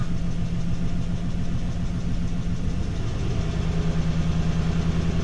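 A 1995 Ford F150 4x4 engine idles steadily up close, a low, even rumble with a faint rhythmic knock running through it, unbroken and alone for the whole stretch.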